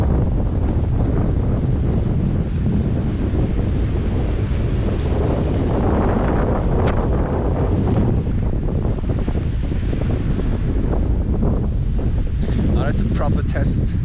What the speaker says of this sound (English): as you can probably hear in the camera, it's still quite windy